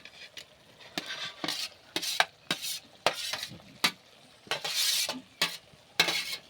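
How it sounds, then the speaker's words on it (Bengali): Fried potato and cucumber are stirred into cooked spice masala in a pan for a Bengali cucumber ghonto, with repeated scraping strokes of a spatula and a soft sizzle between them, close and rhythmic. "দিয়ে ভালো করে নেড়ে চেড়ে কষে নেব।"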